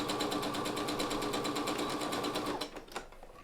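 A sewing machine stitches corset front and back side pieces together in a fast, even mechanical rattle, then stops and gives way to a few light handling clicks and rustles.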